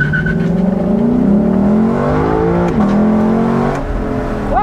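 Lexus LC500 launching hard from a standstill on an uphill road, its engine roaring loudly and rising in pitch through the gears, with a brief dip at a shift.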